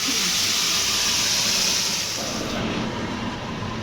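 Garam masala and onion paste frying in hot oil for doi katla, a loud, steady sizzling hiss close up that eases slightly partway through, with no voices.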